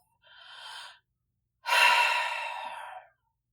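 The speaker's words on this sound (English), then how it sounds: "Let's take a breath." Two deep, audible breaths in a calm restorative yoga session: a softer inhale followed after a pause by a longer, fuller breath out, close and alone with no talking.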